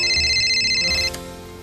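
A telephone rings loudly with a bright, repeating electronic tone, then cuts off abruptly, leaving a low background hum.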